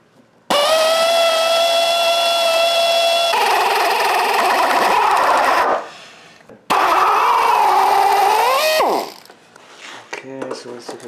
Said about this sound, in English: spin and we can drill it.